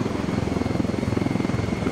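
A fast helicopter in Ghost Recon Wildlands, a video game, roars up close, its rotor thudding in a rapid, steady pulse with loud engine noise filling the whole moment.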